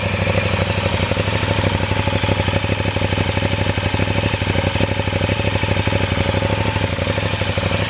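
A car engine with a decat SC Project exhaust idles loudly with a rough, rapid pulsing exhaust burble and a steady low drone, continuous and close with no pauses.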